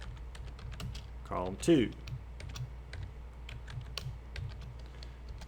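Computer keyboard being typed on while entering HTML table code, a steady run of light, quick key clicks throughout, with a brief stretch of a person talking near the middle.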